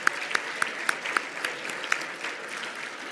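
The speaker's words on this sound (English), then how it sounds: "can we just give applause for those of us who are joining us from home" Audience applause at a charity gala for an ALS foundation, a few louder individual claps standing out over a steady patter of clapping from the room.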